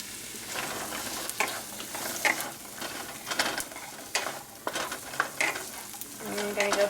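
Chopped green beans for chicken lumpia sizzle in a hot pan while a utensil stirs and scrapes them, irregular scraping strokes over steady frying hiss, close up, with no talking.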